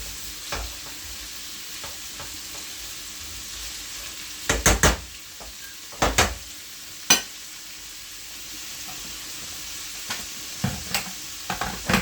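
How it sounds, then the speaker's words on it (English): Pumpkin and carrot sautéing in a pan, a soft steady sizzle broken by several sharp stirring clatters and scrapes against the pan. "pour the pumpkin and the carrot in and let it do the same. They can do all work together. So I'm just sauteing a bit before I add any water in"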